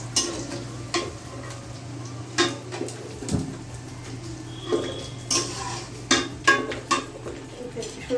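Ginger and garlic fry in a pan under a low steady hum, broken by irregular utensil scrapes and clinks that cluster toward the end, close and moderate in level.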